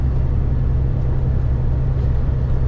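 A truck cruises a straight highway toward Kryvyi Rih with a steady, heavy low engine and road drone inside the cab. The noise is constant and unbroken, with no talking.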